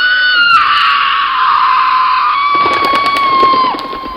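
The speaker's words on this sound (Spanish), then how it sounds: "María soltó un grito que retumbó en toda la selva" A woman's scream rings out in a jungle, loud, high and sustained, wavering before breaking into sobbing, with birds scattering amid a scattered crowd-like clatter in the second half.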